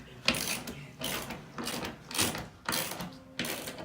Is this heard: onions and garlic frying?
no